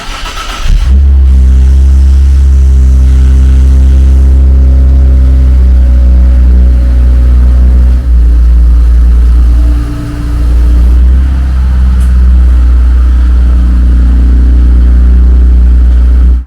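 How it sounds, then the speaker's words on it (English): A 2019 rear-wheel-drive Infiniti Q50 3.0T twin-turbo V6 starting up, its engine settling into a loud, steady idle with a metallic turbo wastegate rattle layered over the low drone, close by and continuous, without speech. "That turbo wastegate rattle, it rattles, and it's quite loud"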